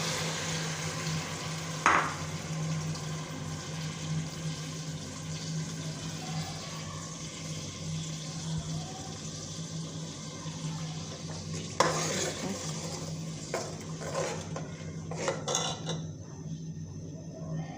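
Onion paste fries in a pot for Lahori chickpea curry, a continuous steady sizzle with a constant low hum beneath, punctuated by a few metallic spoon knocks and stirring scrapes.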